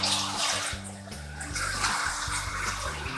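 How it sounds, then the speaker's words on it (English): A kitchen tap runs steadily in a tomato-blanching setup, a continuous close splashing rush with a low hum underneath, no talk. "You hear the water running."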